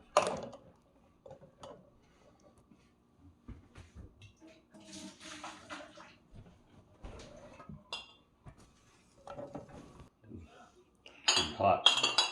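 Glass canning jars holding goat's milk are lifted out and set down in a kitchen, bringing sharp clinks and knocks spaced between quiet stretches, with a voice speaking at times.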